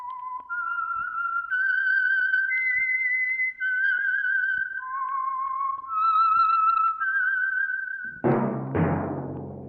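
A lone whistler performs the signature tune of the old radio drama The Whistler, a slow, eerie melody of sustained rising and falling notes, clear and close, cut off by a brief orchestral chord at the end.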